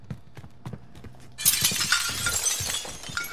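Glass windows shatter in Call of Duty: Warzone as a sudden bright crash of breaking glass bursts in. It follows a few dull thumps and leaves a scattered tinkling spray of shards that lasts to the end.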